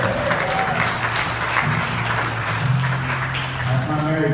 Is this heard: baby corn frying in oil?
no